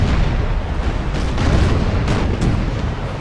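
Broadside cannon fire from sailing warships in Imperial Splendour, a naval battle in the North Sea, rolling as dense, continuous booming rumble with overlapping blasts and no distinct pauses.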